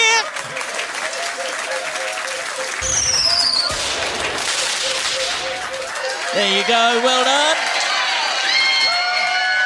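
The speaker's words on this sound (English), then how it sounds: "Give them a round of applause" A pub quiz crowd claps and cheers for a winning team, loud and close, with whoops and whistles rising midway while a host speaks over the noise.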